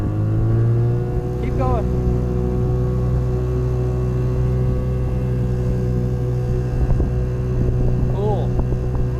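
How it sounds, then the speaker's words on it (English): A motorboat engine runs at full throttle on Benton Lake in Manistee National Forest, Michigan, giving a loud steady drone with wind buffeting the microphone, while people talk briefly over it. "Give it as much throttle as it has."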